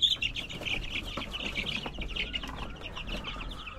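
Chicks and grown chickens cluck and peep steadily at a fish pond farm, a dense, continuous chorus of small bird calls close by, with no talking.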